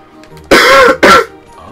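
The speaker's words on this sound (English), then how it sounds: "Coughing, bro. Making the audio sound shitty." Two short, loud coughs close to the mic, a hard burst followed half a second later by a briefer second one, with nothing else around them.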